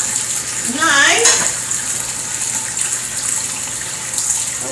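Tap water running into a kitchen sink, a steady hiss of flowing water with a brief louder gush early on and a voice talking over it for a moment.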